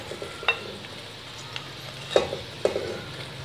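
Jaggery rice is stirred and mixed in a pan, with soft scraping and a few sharper spoon clinks against the metal over a faint low sizzle, close and quiet, no talking.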